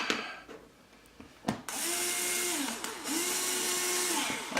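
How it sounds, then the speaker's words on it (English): A power drill with a 1/16-inch bit whirs steadily for about three seconds while drilling a pilot hole in a camera quadcopter frame, briefly dipping in pitch as it bites, then spins up again, close and loud. "And we'll drill a pilot hole."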